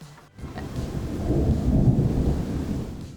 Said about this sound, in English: I'm filming this video because it's thundering and lightning.